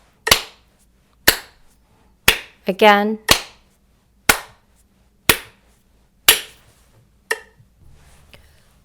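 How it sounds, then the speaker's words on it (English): Sharp single hand claps land evenly on a steady 60 bpm beat, about one per second, crisp and close in a quiet room, with a brief spoken word in the middle of the sequence. "Now that you've mastered clapping on the beat"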